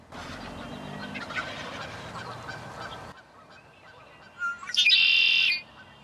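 Wild spring turkey toms gobbling among hens outdoors, with a loud, close gobble bursting out near the end after quieter background calls and rustle.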